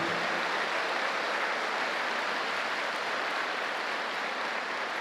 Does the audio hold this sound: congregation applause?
yes